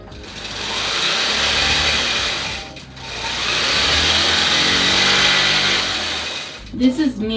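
A longarm quilting machine stitches a row across bubble Minky fabric, a steady loud mechanical whir running in two long passes with a brief dip between them, then stopping as a voice speaks briefly at the end.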